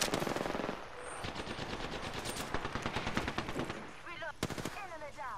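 Rapid automatic gunfire from Apex Legends combat, dense bursts and volleys stacked closely, loud and continuous, with game voice lines and other effects cutting in near the end.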